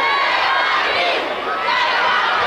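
A loud wrestling arena crowd at the Summit roars and chants continuously, a dense wall of many voices filling the space close and unbroken.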